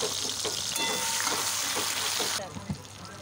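Nigella seeds, chopped tomato and green chili sizzling in hot oil with a loud, bright crackle that drops away abruptly near the end, leaving some quiet clatter.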